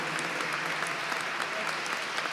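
An audience at a Buenos Aires talk applauds a city legislator, giving a short, even burst of dense clapping that stays at steady loudness throughout with no voices over it.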